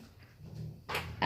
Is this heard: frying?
no